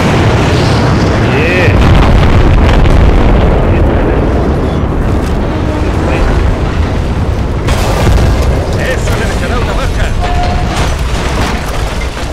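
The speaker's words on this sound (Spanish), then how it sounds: "Bombas en camino" Bombs exploding in the video game Battlefield: Bad Company 2, with a loud continuous roar of blasts and rumbling booms that fill the whole stretch and have little letup.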